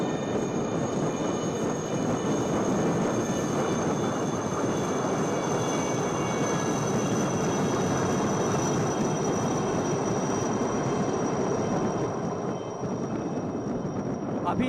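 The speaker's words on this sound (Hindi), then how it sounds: "Coming up next are 6 Chetak helicopters from the 321 flight in a diamond formation." Six Chetak helicopters of an Indian naval flight pass overhead in diamond formation at a naval fleet review, a steady loud rotor and engine roar sustained throughout with broad wash of noise.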